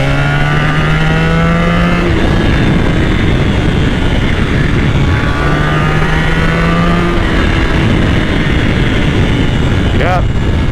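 A Honda VFR1200F motorcycle with an Akrapovic slip-on exhaust pulling a second-gear roll-on, engine note rising steadily and loud beneath heavy wind rush, with a faint voice.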